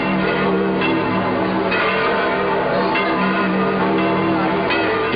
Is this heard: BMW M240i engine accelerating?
no